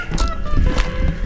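Steady March wind buffeting the microphone outdoors in open country with grazing cattle, a constant rumbling roar with gusty low-end noise throughout.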